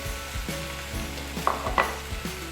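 Noodles, tofu and vegetables stir-fried together in a pan for pad thai, giving a steady low sizzle with a few sharper scraping and tossing clicks near the middle, close and moderately quiet with no talking.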